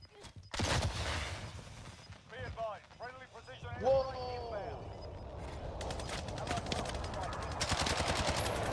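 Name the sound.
gunfire from a tower in a video game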